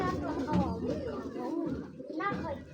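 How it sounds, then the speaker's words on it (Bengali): Young China-type pigeon chicks cooing in soft, repeated warbling calls close by, with a voice talking over them throughout. "এইগুলো চায়না টাইপের, চায়না কবুতরের বাচ্চা।"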